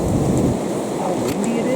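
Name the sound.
wind blowing outdoors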